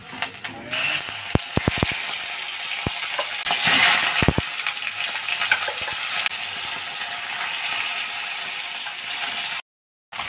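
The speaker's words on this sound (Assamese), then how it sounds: "মাছৰ মাথাটোত নিমখ হালধি সানি লৈছিলোঁ, এতিয়া ভাজি ল'ম।" A fish head coated in salt and turmeric frying in hot mustard oil, giving a steady broadband sizzle with scattered sharp pops and crackles throughout, close and continuous with no talking.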